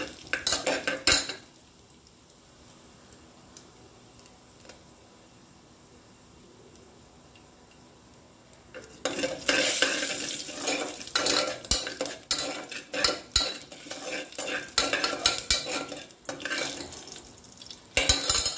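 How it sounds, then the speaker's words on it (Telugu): Cumin seeds, mustard seeds and red chillies fry in a pan as a tempering. A quiet stretch gives way to busy stirring clatter and crackling sizzle through the second half, close and fairly loud, with no talk. "Cumin seeds, mustard seeds, red chilli పోపు వేసుకోవాలి."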